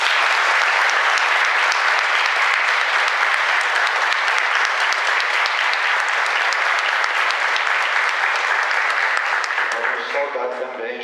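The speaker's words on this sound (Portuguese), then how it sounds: "todos merecem também uma salva de palmas" Congregation in a church applauding during a pastoral visit Mass, a steady, full roar of many hands clapping for around ten seconds before dying away as a voice begins.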